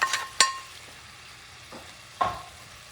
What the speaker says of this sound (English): you're going to add your squid now with the oil and everything.